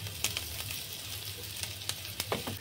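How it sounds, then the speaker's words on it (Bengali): Chopped onions with salt frying gently in oil, a soft, quiet sizzle with a few light stirring clicks scattered over it and a low steady hum underneath. "পেঁয়াজগুলো হালকা করে ভেজে নেবো।"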